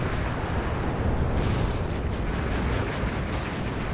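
Dense, continuous rumble of explosions and artillery-like booms from a WARNO real-time battle, with anti-tank guided missiles striking, loud and sustained throughout with no talking.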